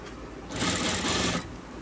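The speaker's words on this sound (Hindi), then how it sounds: "ओवरलॉक हमने कर ली थी, तो शोल्डर की सिलाई लगा के दिखा देते हैं आपको।" A sewing machine stitches the shoulder seam of a men's shirt in one quick whirring run of about a second, fairly quiet, with soft room noise before and after.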